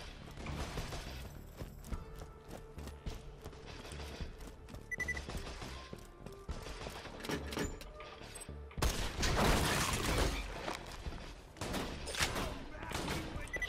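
Gunfire in the Captain Scarlett DLC video game: dense volleys of rapid shots and impacts throughout, with a louder burst of blasts midway, mixed with game mechanisms and occasional voices.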